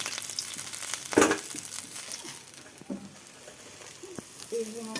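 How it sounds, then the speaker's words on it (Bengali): Fish fries in a hot pan, a soft continuous sizzle with a few louder spatters and scrapes as it is lifted out, moderately close. "মাছটা ভাজা হয়ে গেছে, আমি তুলে নিচ্ছি।"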